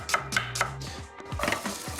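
A knife chops onion finely on a board in quick, close, crisp strikes at an uneven rhythm, with a faint background hum and no one talking.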